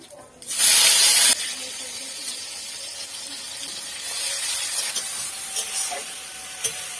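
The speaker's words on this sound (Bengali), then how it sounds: "এই দিয়ে দিলাম লঙ্কা, তেজপাতা, জিরে, একটু দিয়ে দেবো।" Chili, bay leaf and cumin dropped into hot oil for khichdi burst into a loud, sharp sizzle lasting about a second, then settle into a steady, quieter frying hiss with light stirring close by.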